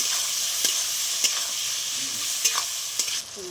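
Chana dal with tomato, turmeric and salt sizzles in a frying pan, a steady close hiss broken by a few sharp spoon scrapes and taps as it is stirred, with no talk.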